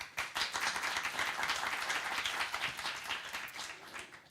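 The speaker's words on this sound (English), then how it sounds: "Please give her another round of applause." Round of applause for speaker Sonja Kralj at the Mobility4Creativity Forum 2023, dense steady clapping from an audience that starts abruptly and holds for several seconds before tapering slightly.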